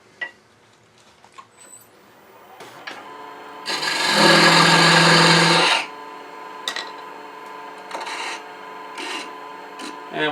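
A beading and parting tool cuts into a spinning wooden blank on a lathe as a one-piece ring baby rattle takes shape. A low machine hum runs throughout, broken by a loud two-second rasping cut and a few light taps.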